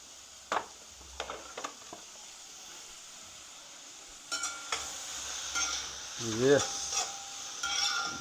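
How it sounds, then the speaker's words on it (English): Lobster meat sautés in a pan, with a faint background sizzle, scattered scrapes and clinks of stirring, and a louder burst of hissing and handling toward the end. "So we're just allowing that"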